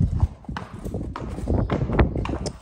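Hooves of a young eventing horse clip-clop in a quick irregular rhythm, close and fairly loud, with thuds and shuffling steps that suggest restless movement, while a person talks faintly nearby.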